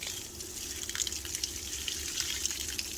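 Water runs steadily from a portable hot water heater being installed and tested, a soft continuous splashing hiss with faint drips throughout, fairly quiet and with no talking.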